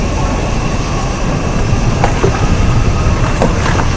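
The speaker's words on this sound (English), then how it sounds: "That's a train." A passing train on Constitution Drive rumbles in a loud, continuous roar with faint rhythmic clatter and brief metallic squeals midway.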